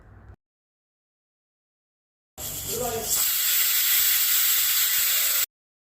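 A pressure cooker holding koorka (Chinese potatoes) in water releases steam through its whistle: after a quiet gap, a loud, harsh hiss bursts out and holds for about three seconds before stopping abruptly.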